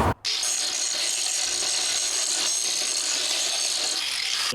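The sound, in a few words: grinding metal brackets with a power tool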